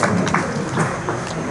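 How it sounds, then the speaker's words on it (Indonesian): Audience at a memorial haul gathering for KH Salahuddin Wahid applauds, a steady wash of clapping from a crowd filling the room at even loudness. "Tepuk tangan untuk Kiai Haji Salahuddin Wahid."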